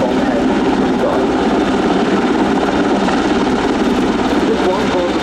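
Portuguese Air Force Leonardo AW101 Merlin search-and-rescue helicopter in a flying display at RIAT 2025, a loud steady broadband rotor and engine roar throughout, with an announcer talking over it.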